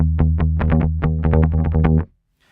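Bass guitar picked with a plectrum, giving a gritty, grunty tone: a run of about fifteen sharp, evenly spaced attacks on sustained low notes, loud and close, then cut off abruptly into silence.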